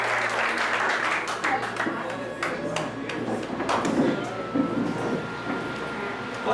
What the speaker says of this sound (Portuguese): Só quem crê, dá uma linda salva de palmas e senta glorificando o nome do Todo-Poderoso.